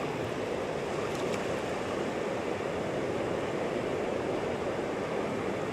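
Sea water washes in over a beach where worms are being dug, a constant broad rushing hiss of surf close by, steady and fairly soft throughout with no talk.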